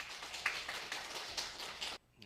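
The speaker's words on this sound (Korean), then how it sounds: "박수하겠습니다" A church congregation applauds to welcome the pastor with soft, steady clapping that sounds faint and somewhat distant. The applause runs about two seconds before cutting off abruptly.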